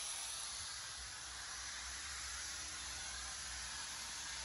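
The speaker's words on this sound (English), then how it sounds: "now we put in the steam outlet pipe and we open just a little bit" Steady, faint hiss of steam escaping from a just-opened steam outlet pipe during inversion pipe lining work, a constant noise with no change in level.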